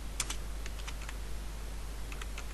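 Someone types on a computer keyboard while entering code in a Java program in NetBeans. Light, quick clusters of keystrokes sound close over a low electrical hum, and no one speaks.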